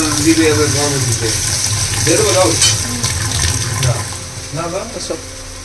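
Water splashes and runs in bursts close by, loud and gushing, while people talk over it.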